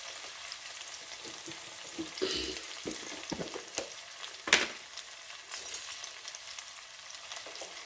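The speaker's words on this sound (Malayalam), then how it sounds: "ഞാൻ മസാല ഇട്ട് കൊടുക്കുകയാണ് കേട്ടോ" Masala frying with prawns for a roasted-coconut prawn curry crackles quietly in oil while a spatula stirs and scrapes against the pan, with a few louder clicks and knocks among the sizzle.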